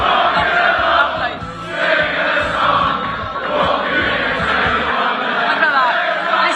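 A lively crowd at a darts championship cheers and chants in a loud, rolling roar, swelling and dipping over several seconds while a commentator's voice carries over it.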